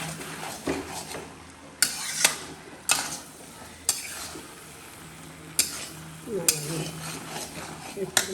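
Mustard being stirred in a hot frying pan for a home-cooked meal, with repeated scraping strokes and sharp utensil clinks against the pan over a low sizzle, close by, under faint kitchen background sound.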